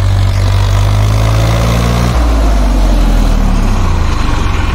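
A Massey Ferguson 7250 diesel tractor idles loudly and close, a steady low rumble that shifts slightly in pitch partway through, with no voices.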